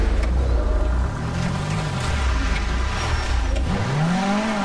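Maruti Suzuki 800 engine in GTA 5 revving hard, with rising and falling pitch sweeps as the small car accelerates and shifts, steady and fairly close with no voices over it.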